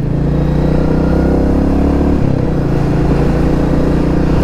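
A Royal Enfield Meteor 350 motorcycle engine drones steadily and loudly while riding, with a brief dip in pitch partway through.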